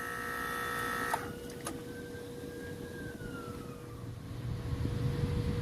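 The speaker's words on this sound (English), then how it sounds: "Have to excuse the sirens in the background." A distant emergency vehicle siren wails, rising and falling in pitch faintly in the background over the steady hum of an HVAC compressor, with a couple of sharp clicks early on.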